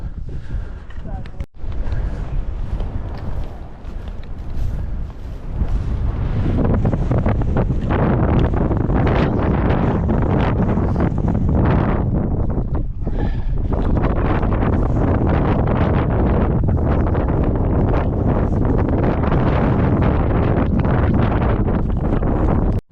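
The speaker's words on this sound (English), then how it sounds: "terribly windy up here, so you probably can't hear me." Strong gusting wind on a mountain ridge in northern British Columbia roars and buffets the microphone almost continuously, loud and rough, with brief lulls near the start.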